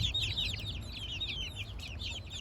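A Gurk mother hen clucks softly among her chicks as their high, rapid peeping chirps run continuously over low murmuring, close by and quiet, with no talking.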